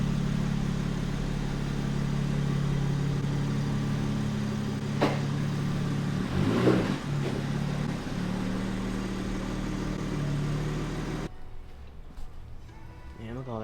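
Manual BMW M4 with restricted catalytic converters, engine running with a steady drone and a swelling rise midway, heard from inside the car before cutting to quieter sound with people talking.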